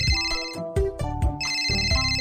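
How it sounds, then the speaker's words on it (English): Cartoonish telephone ringtone from the Baby Panda World fire safety game, sounding in repeated bright electronic bursts separated by short gaps, with no voices. "The phone is ringing."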